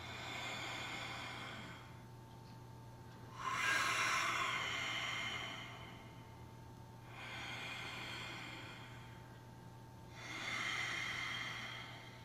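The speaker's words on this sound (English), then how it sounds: "you will hear them breathing through the entirety of this practice" Slow, audible yoga breaths of people practising throat-constricted breathing during a stretching session: long, hissing airy exhales and inhales, about three full cycles, soft and close over a low steady hum.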